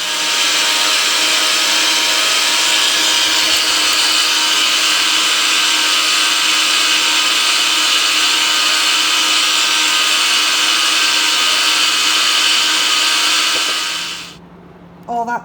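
A blender whizzes up wild garlic with a loud, steady high-pitched whine that holds constant for about fourteen seconds, then cuts off abruptly into near quiet.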